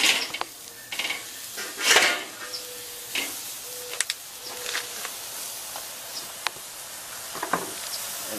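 Burger patties turned with a metal spatula on a smoker grill: several scattered scrapes and clinks over a steady soft sizzle, fairly close, with no voices.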